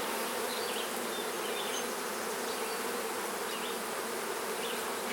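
Honeybees buzzing at an opened hive during a hive split, a dense, continuous, fairly close swarm drone that holds steady from start to finish with no talk.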